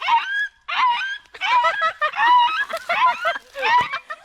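A dog yelps and whimpers close by in a rapid run of high, strained cries with brief gaps between them, sounding distressed rather than barking steadily.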